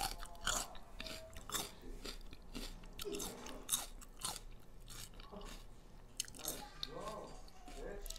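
Close, wet chewing and crunching of raw celery during a spicy meal, with repeated bites and steady mastication noises throughout and no words.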